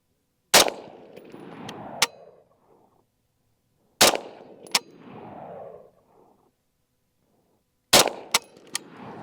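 Three loud, sharp Armalite AR-180 rifle shots fired at a paper target at a range, each crack followed by a brief ringing echo and one or two quick metallic clicks, spaced about four seconds apart.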